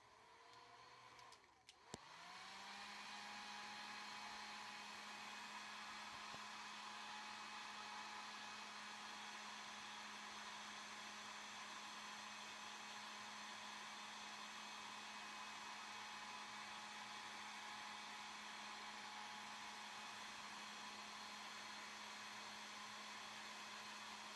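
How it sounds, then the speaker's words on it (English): A hair dryer switches on and blows steadily on a thrifted item's sticker label, with a constant whirring hum and airy rush, continuing unchanged for a long stretch. "Let's get the label off first with the hairdryer."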